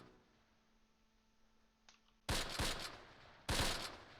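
Gunfire in the Close Combat wargame, set in fog at Val De See in August 1944: two sharp bursts of rapid shots ring out after a quiet stretch of faint background ticking.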